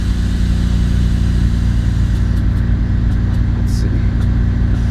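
An Infiniti G35 with a custom exhaust drones loudly and continuously while driving under load, a heavy, close engine roar with no clear breaks.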